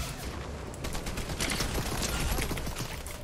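Rapid gunfire in Fortnite crackles in a quick, dense burst of shots, fairly loud and continuous for a few seconds, with no voices over it.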